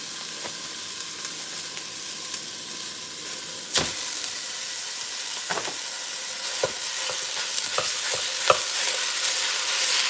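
Hamburger meat and onions cook in a pot for stew, giving a steady, moderate sizzle and hiss with occasional sharp clicks and scrapes from stirring.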